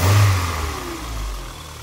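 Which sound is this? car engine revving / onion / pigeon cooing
car engine revving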